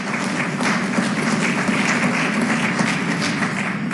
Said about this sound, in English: That should be getting a round of applause as well.